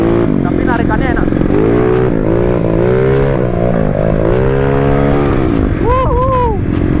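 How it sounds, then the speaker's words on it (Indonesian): A racing-spec Yamaha Mio scooter engine revs hard and steadily during a power wheelie, its loud, close, rising drone continuing throughout, with a voice briefly whooping near the end. "Power wheelie banget nih motor nih guys"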